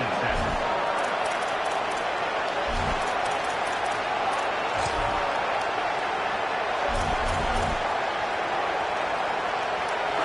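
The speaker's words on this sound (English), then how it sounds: "This crowd ready to make its presence known." A college football video game stadium crowd, a steady dense roar throughout with occasional thumps underneath and a commentator speaking over it.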